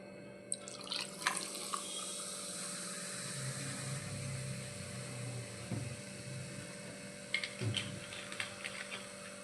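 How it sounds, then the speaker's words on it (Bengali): Sprite is poured into a glass of chilled lemon juice with mint leaves, giving a steady fizzing, splashing hiss with a few faint clinks at the start and end. "এরপর এর মধ্যে দিয়ে দেব স্প্রাইট।"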